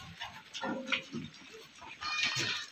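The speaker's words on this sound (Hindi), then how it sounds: "बहुत सारी बकरियां हैं यहाँ पर" Goats bleat on a busy farm that keeps Sojat, Kota and Barbari breeds, with overlapping nasal cries and rustling, moderately close, filling the short stretch continuously.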